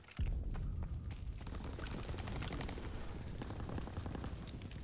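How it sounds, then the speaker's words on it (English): An explosive charge detonates in Call of Duty WW2 gameplay, a sudden loud boom followed by several seconds of dense rumbling and crackling battlefield noise with gunfire-like bursts, no speech. "Charge exploded! One more and that gun is history!"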